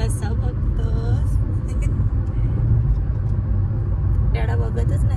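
Steady low engine and road rumble fill the cabin of a moving car, continuous and fairly loud from start to finish, with an adult voice talking over it.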